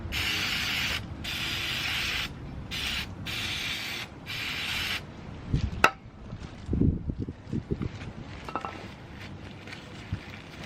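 A dirty Alta Redshift SM motorcycle, muddied from a dirt race section, is sprayed clean in several loud hissing bursts with short gaps, followed by quieter clunks and handling noises.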